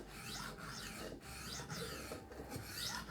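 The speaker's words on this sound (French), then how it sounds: "je remets mon couteau sur le support de lame et vous allez voir, je vais venir ici faire mon affûtage" Kitchen knife drawn across a Horl 2 rolling sharpener with the blade held on its magnetic support, giving a steady, close rasping grind in repeated strokes with no talk.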